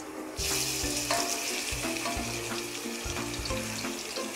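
Chicken pieces dropped into a hot pan burst into a loud, steady frying sizzle with crackling spatters, close up and with no talking.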